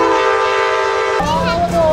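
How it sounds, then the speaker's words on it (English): A fast passing train at a Santa Barbara train day event sounds its horn in a loud sustained chord, which drops sharply in pitch midway as it rushes by close. "The train's going really fast."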